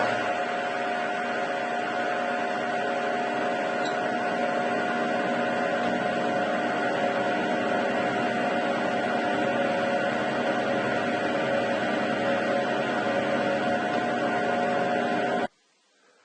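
A Harrison M300 lathe cutting a thread at a spindle speed of 260 RPM gives a steady, tonal machine hum that holds unchanged for about fifteen seconds before cutting off abruptly, with no talking over it.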